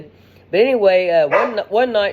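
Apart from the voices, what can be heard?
dogs barking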